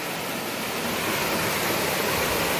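Waterfall on a stream right beside a house in Dərə, Kəlbəcər, a dense, steady roar of falling water filling the space, close and constant with no voices.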